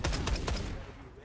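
Call of Duty gameplay with a rapid burst of several gunshots in quick succession, fairly close, then fading within about a second.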